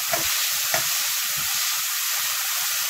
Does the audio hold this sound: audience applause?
no